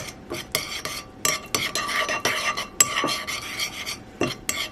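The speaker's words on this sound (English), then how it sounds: "I'm going to add a little bit of olive oil, just like this, and I'm going to mix it." Plantain pieces tossed with olive oil and garlic in a bowl, a close series of wet scraping and clinking strokes in an irregular rhythm, with no talk.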